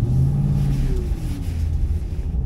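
A 2005 Ford Mustang GT V8 with a manual gearbox rumbles steadily while driving, its deep engine drone close and continuous, with a slight rise and fall in pitch.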